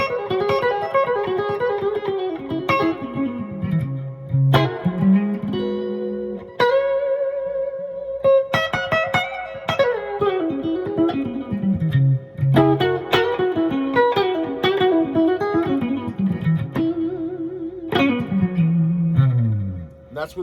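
An electric guitar played through a fuzz pedal set for a clean, glassy tone rings out in sustained chords and descending single-note runs, loud and close, with pauses between phrases.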